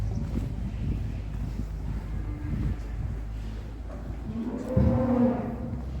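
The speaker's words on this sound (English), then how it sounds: "Hundreds of cows all packed in." Cattle lowing in a crowded cow shed where hundreds of cows are packed together, a steady rumble of animal noise with one louder, closer moo rising near the end.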